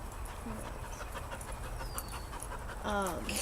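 Two dogs panting and scuffling as they hump, with a short whimper-like burst near the end over steady household background noise.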